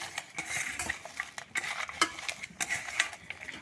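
Chopped green chili, raw onion and coriander leaves being mixed by hand or spoon for a village-style bharta, irregular close clinks and scraping against a bowl with soft squelching, no speech.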